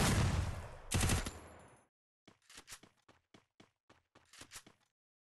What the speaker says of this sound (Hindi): एसपी भाई ने 6 शॉट मार डाले